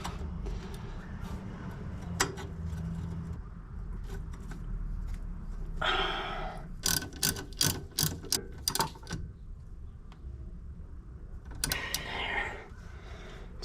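A hand ratchet tightening 13 mm brake line bolts on a car in a home garage, with rapid clicking pawl bursts in several quick runs between quieter handling noises, close and clear.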